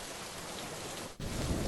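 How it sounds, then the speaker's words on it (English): Steady rain pours down close by, a dense continuous hiss of drops striking surfaces. "So it's still raining, floods are up."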